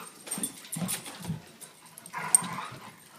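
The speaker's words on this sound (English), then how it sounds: "Looks like a real dog fight." Dogs play-fighting up close, with intermittent low growls, snarls and short yips coming in quick bursts, followed by a higher whining yelp near the end.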